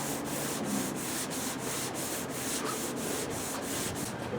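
Steady rhythmic back-and-forth sanding of primer on the door of a 1981 Ford F350 truck, a close, continuous scratchy rasp with regular strokes and no talk.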